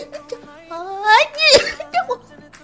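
A single sharp sneeze erupts up close in the middle of a short stretch of speech-like voicing and giggles.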